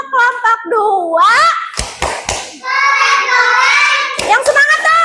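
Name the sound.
class clapping chant 'tepuk keren' for group 2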